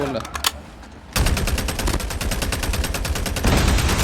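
Rapid automatic gunfire from a DR-H rifle in an online shooter game, a dense continuous burst of shots that starts after about a second of quieter sounds and runs loud to the end.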